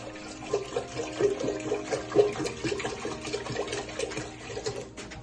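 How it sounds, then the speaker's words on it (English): Half a gallon of well water pours from a container into an Instant Pot, a steady, close splashing and trickling with gurgling bursts that runs for about five seconds without talk. "I'm going to dump a half a gallon of water in my Instant Pot"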